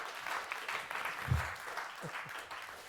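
Steady, sustained applause from a lecture audience welcoming speaker Fred Turner, dense clapping filling the room at an even level throughout, with no talking over it.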